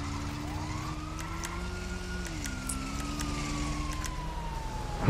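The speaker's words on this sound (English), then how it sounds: "I hear cops." Police siren wails in the GTA V video game, a steady rising and falling tone that holds fairly close over a constant rumble of traffic and engine noise, with no talking.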